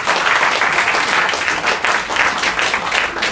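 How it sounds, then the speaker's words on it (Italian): Audience applause at a Japan Day 2018 fan event with cosplayers, a dense, steady wash of many hands clapping close and loud, continuing unbroken throughout. "Facciamo un applauso a Pamela Condati."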